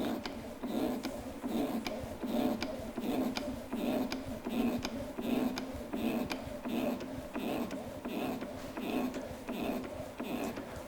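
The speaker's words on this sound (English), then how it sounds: "We then need to lift the cylinder, so we do this by pumping this black pump handle." A black hydraulic pump handle is worked repeatedly to lift a gas cylinder on a 250 kg rotator, giving a steady rhythmic series of mechanical clunks and creaks, about one stroke a second.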